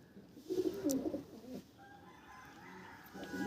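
Pigeons in a loft give a few soft, low coos close by, then fall quiet against faint background noise.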